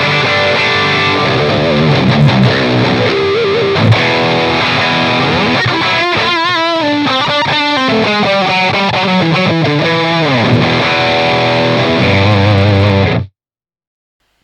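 Heavily distorted metal electric guitar through The Crown amp sim with a booster and extra gain plays loud chugging riffs and sustained chords, dense and continuous, then cuts abruptly to silence near the end.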